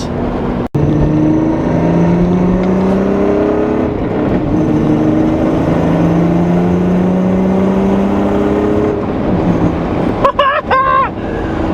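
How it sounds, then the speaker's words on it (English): A VR6 car engine revs and pulls through the gears, rising pitch sweeps repeating, loud and close, ending with a sharp throttle blip; voices talk over it. "I missed the VR6 sound."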